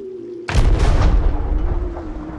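A single heavy ship's cannon blast in Sea of Thieves, fired with the cutthroat cannon flare: a sudden loud boom that rolls off into a long rumbling decay, with a faint steady hum underneath.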